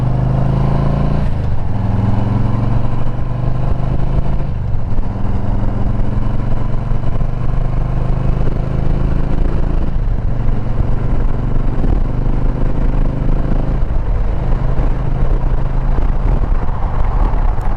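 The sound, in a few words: Harley-Davidson project motorcycle engine while riding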